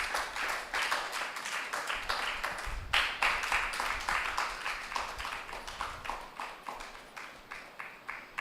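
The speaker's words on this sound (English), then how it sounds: "with a round of applause" An audience at a business competition claps steadily, a dense patter of many hands at a moderate distance, holding an even level throughout.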